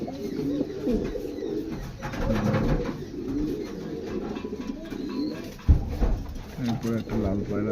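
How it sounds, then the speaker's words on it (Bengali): Fancy pigeons coo softly and repeatedly nearby, the low rolling calls overlapping through the whole stretch with a faint murmur of voices underneath. "পায়রাগুলো সব ফ্যান্সি পায়রা"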